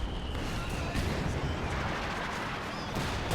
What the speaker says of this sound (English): Su-76 throwing artillery rounds downrange